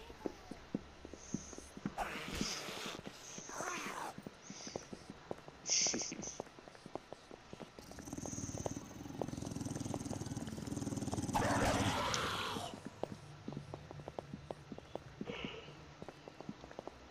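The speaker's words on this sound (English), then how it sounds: "I hear footsteps though" Footsteps in the video game 7 Days To Die, a series of faint, regular thuds spread across the stretch, mixed with low rumbling game ambience and brief bursts of louder noise.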